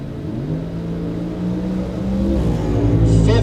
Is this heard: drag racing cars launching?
yes